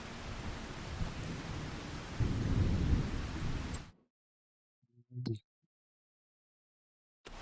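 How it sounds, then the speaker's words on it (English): Rain with rumbling thunder in the Farming Simulator 25 video game, a steady downpour that swells louder before cutting out abruptly, followed by a short thunder burst and silence. "It's gonna rain all day."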